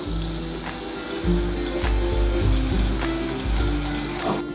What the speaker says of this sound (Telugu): ఇప్పుడు కార్న్ఫ్లేక్స్ వేసుకొని ఫ్రై చేసుకుందాము